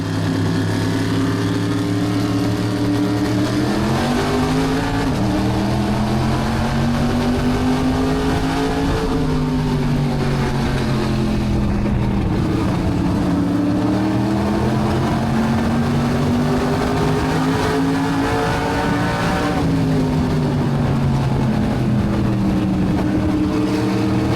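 Race car engines roar at the start of a feature at Stafford Speedway, loud and continuous, their pitch climbing and falling through repeated gear changes as the pack accelerates.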